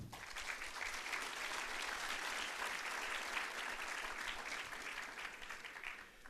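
Seminar audience at an international political science seminar applauding the panel of doctors: steady, dense clapping from a sizable crowd throughout, fairly distant and even in level.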